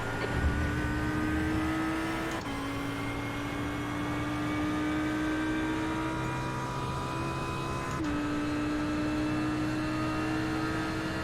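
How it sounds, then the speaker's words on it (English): A faster-class race car closes in from behind during a sim GT3 race at Interlagos, its steady engine whine rising over the player's own car noise, with gear shifts breaking the tone twice. "It's a faster class car behind."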